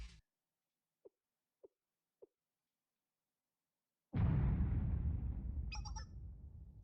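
A nearby explosion from the game Blue Archive bursts in with a sudden loud blast and a long rumbling decay, coming after near silence broken by three small soft blips.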